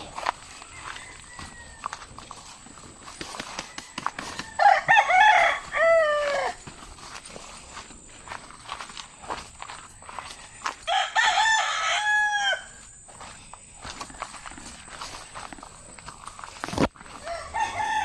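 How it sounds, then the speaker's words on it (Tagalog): Roosters crow in two long bursts among clucking chickens on a farm, loud and fairly close, with scattered clatter and quiet background voices. "Manok."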